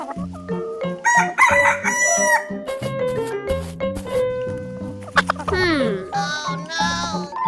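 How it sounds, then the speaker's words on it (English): A cartoon rooster crows over busy, bouncy game music from a children's escape-room challenge, with its cock-a-doodle-doo rising and falling near the end amid jingles and effects. "Chicken."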